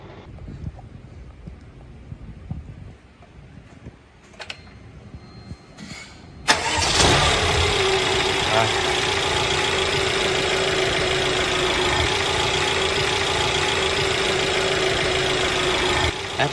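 A Mercedes engine with a repaired fuel pump control module cranks and catches with a sudden loud start, then keeps idling steadily and evenly at close range, with no one speaking.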